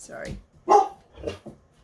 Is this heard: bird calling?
no